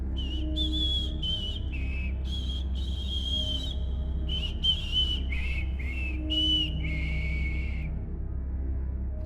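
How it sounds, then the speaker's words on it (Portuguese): Mysterious whistling heard inside a house at night, a series of high, wavering whistled notes in short bursts repeated over about nine seconds, carried over a steady low background hum with no talk. "Às exatas 3h03 ouvimos o assobio."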